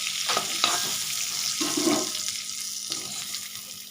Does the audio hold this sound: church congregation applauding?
no